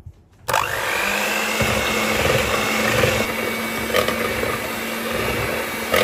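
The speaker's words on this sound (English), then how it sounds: "I'm gonna use my hand mixer to just mix everything out right now" An electric hand mixer whirring through cinnamon roll dough, switching on abruptly and then running at a steady high-pitched buzz, with slight shifts in tone.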